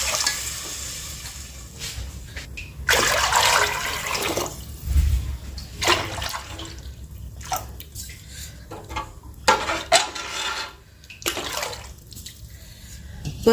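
Plenty of water poured into a cooking pot over a spice-paste base for a curry broth, a splashing, gushing pour in bursts with steady running-water noise between them, recorded close up with no one speaking.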